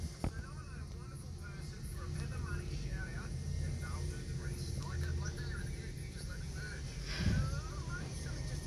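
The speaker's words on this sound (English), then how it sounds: "Yep, another Jetstar. Another Airbus A320." A Jetstar Airbus A320 airliner flies past as a steady, distant engine drone that swells slightly near the end, with people talking softly over it.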